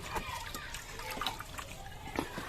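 Water left from washing rice is poured into a bucket, making a faint trickling and splashing with a few louder drips.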